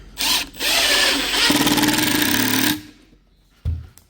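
A power drill backing screws out, with a short whir, then a long sustained high-pitched spin that winds down, followed by a brief final burst, loud and close.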